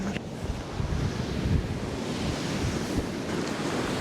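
Incoming flood tide waves washing in around a WW2 bunker on the coast, a steady roar of surf mixed with strong wind buffeting the microphone, loud and continuous with no voices.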